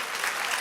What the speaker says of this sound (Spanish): Denle un aplauso ahora al Señor.